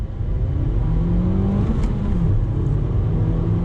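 A 2018 Nissan Sentra NISMO with a 6-speed manual pulls hard under throttle, its engine note climbing steadily and droning up close from inside the cabin, with no talking.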